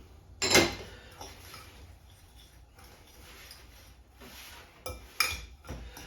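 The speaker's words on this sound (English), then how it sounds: "while I mix up that the cheesecake batter" Cheesecake batter is worked in a mixing bowl with a utensil, giving sparse clinks and scraping taps against the bowl, separated by quiet stretches and louder knocks toward the end.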